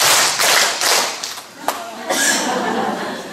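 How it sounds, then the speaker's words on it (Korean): A church prayer-meeting audience claps in a few loud bursts that quickly thin out into scattered claps and a sharp tap, with voices murmuring underneath. "박수를 한번 시작."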